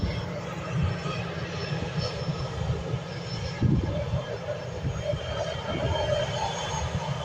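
An Airbus A320 airliner taxis at an airport, producing a steady, broad engine rumble and whine that holds throughout with a brief louder swell midway.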